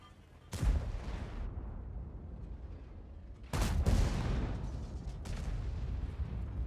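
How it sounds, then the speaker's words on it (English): An IS-3 tank's cannon fires standard rounds in World of Tanks, two sharp booming shots a few seconds apart, each followed by a rumbling decay, with a fainter distant shot after. "It's an IS-3, firing standard rounds."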